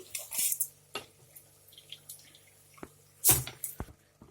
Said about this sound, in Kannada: ಈಗ ಅಕ್ಕಿಯನ್ನು ತೊಳೆದಿಟ್ಕೊಂಡಿದ್ನಲ್ಲ ಅದನ್ನು ಹಾಕ್ತಾ ಇದ್ದೀನಿ